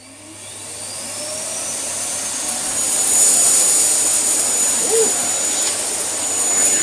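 A Samsung CycloneForce 2100W vacuum cleaner runs on a laminate floor with a loud, steady whining roar that swells slightly as the head is pushed along, close and continuous, with no voices.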